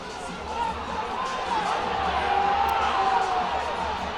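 A hockey arena crowd keeps up a steady, loud jeering roar aimed at the linesman at the start of the third period of an AHL game between the Toronto Marlies and Wilkes-Barre/Scranton Penguins.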